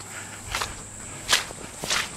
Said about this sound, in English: Hear the sloshing?